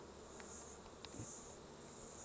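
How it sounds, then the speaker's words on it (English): Honey bees buzz around hive frames during a brood inspection, a faint, steady, high droning hum with a few brief closer buzzes over a soft background. "A lot of bees here."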